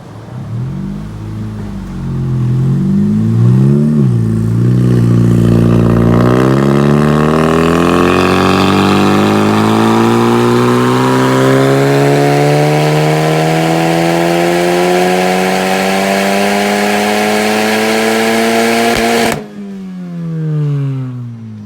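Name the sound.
Honda Civic Type R dyno run with downpipe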